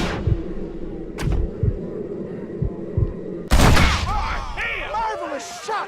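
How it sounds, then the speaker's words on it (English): Gunshots in the Western game Red Dead Redemption, with a crisp shot early on and a loud blast with a burst of gunfire around the midpoint, set over a low thumping score as voices talk. "Marvelous shot, dear boy."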